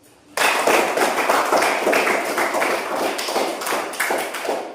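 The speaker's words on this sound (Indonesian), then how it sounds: "Marilah kita berikan aplaus." Classroom applause from a group of students, a sudden burst of dense clapping that starts sharply and holds steady and loud for several seconds.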